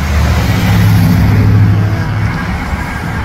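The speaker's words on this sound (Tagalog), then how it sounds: "Dumadaan kasi mga sasakyan, eh." Cars roll across a lowered high-tech lift bridge, making a continuous, fairly loud low engine and tyre rumble close by with no breaks.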